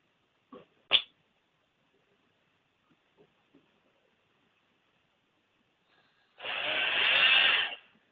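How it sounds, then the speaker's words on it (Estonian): A cordless drill drills a hole for a cable with a single burst of whirring that lasts about two seconds. A few sharp clicks and taps come first in near silence, and no one speaks. "Tuleb võtta akutrell."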